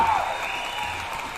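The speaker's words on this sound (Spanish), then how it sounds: "Es por eso que vamos a darle un fuerte aplauso a Carolina, que está con nosotros aquí." Brief burst of audience applause welcoming a guest, a short steady patter of clapping at moderate level.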